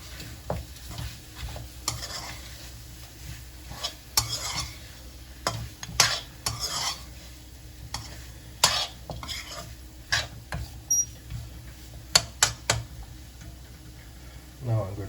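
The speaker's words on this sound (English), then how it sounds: "Give it a stir." Mutton curry stirred in a pot sprinkled with garam masala, a spoon knocking and scraping against the metal in irregular bursts over a low sizzle, close and clear.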